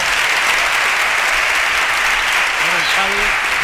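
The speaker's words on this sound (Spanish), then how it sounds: "Un aplauso para Cabrera." A live audience at a tapas-route show in Camas gives sustained applause for a man named Cabrera, a dense, loud clapping that holds steady throughout, with a brief voice surfacing near the end.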